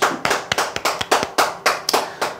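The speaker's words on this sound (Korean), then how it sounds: "박수 한번 주십시오" A small audience at a talk gives a round of applause, about a dozen sharp, fairly even claps close by, sparse rather than a dense crowd.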